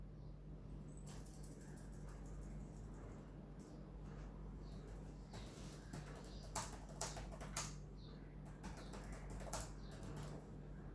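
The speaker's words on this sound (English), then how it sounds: "So now I'm just typing the concluding words." Someone types on a computer keyboard while finishing an academic essay, with scattered quiet key clicks that gather into a few brisk runs of taps over a low steady hum.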